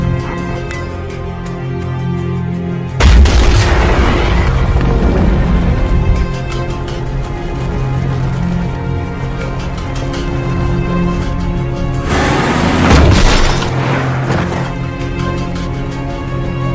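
A bomb detonates in a film scene, with a sudden loud broadband blast that rumbles and fades over a few seconds, then a second heavy burst follows against a continuous loud musical score.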